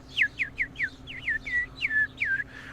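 A person whistles a run of about eight quick, chirpy notes, each sliding downward, in an uneven bird-like rhythm over a low steady hum.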